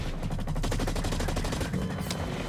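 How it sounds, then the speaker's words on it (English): Rapid, continuous submachine gun fire in the shooter game Blacklight: Retribution, loud and close, with evenly spaced shots throughout and no talking. "I'm gonna use my submachine gun."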